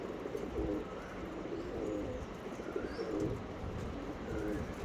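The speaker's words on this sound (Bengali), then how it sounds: "এটা নর পায়রা" Adult pigeons of the Andhra Mangalagiri Lalsira, Fulsira and Lambadi breeds coo in a loft, low repeated throaty calls close by over a faint noisy background, with a chirp or two.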